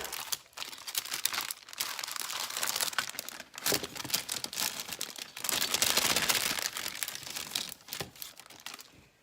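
A gold paper envelope from a craft club kit is handled up close, giving continuous crinkling and rustling with crisp crackles that swell and fade as the paper is turned.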